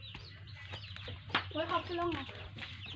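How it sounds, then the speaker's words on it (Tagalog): Domestic chickens clucking around a backyard henhouse, a few short calls rising near the middle, heard beneath a person talking over a steady low hum. "So, ito naman ang aming manok."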